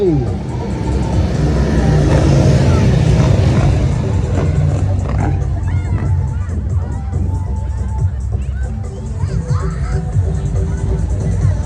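Police motor patrol motorcycles and an ATV roll past in a festival parade, engines rumbling loudly and steadily under a noisy crowd, with the sound peaking early and easing off as they move on.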